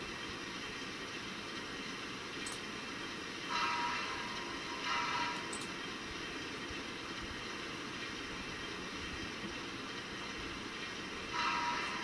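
An Aristocraft 0-4-0 model train locomotive, based on the Pennsylvania A5, runs with a steady, fairly quiet mechanical hum. Brief clicks and rattles recur every few seconds.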